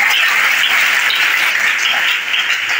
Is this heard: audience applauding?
yes